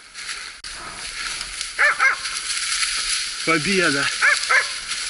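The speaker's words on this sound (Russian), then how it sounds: "Блин, собаки." Hunting dogs on a moose hunt in the Bryansk region bark in short, sharp bursts at mid distance, several yips in quick clusters over a rough outdoor background, with someone speaking briefly.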